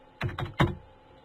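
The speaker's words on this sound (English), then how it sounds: "Just typing my coordinates after I enter." Three distinct, fairly loud keystrokes on a computer keyboard, spaced evenly, entering coordinates into drafting software, with a quiet room tone between strikes and no talk.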